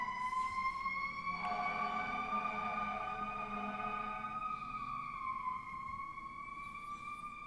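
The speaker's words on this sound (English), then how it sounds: "sorry, sirens." Emergency vehicle sirens wail steadily and loudly nearby, their sustained rising and falling tones holding across the whole stretch with no talk over them.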